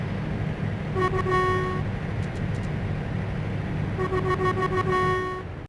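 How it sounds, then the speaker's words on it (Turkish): A new Volvo FH truck with a 780 hp engine roars with a deep, steady rumble, topped by high tonal whines that swell and fade in two long stretches, loud and close. "Motorun sesine baksana nasıl bağırıyor bak."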